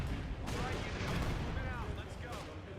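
Mortar and artillery fire in the Company of Heroes 2 war game: dense, continuous battle noise with rolling booms and scattered gunfire at a steady, fairly loud level, with no talk over it.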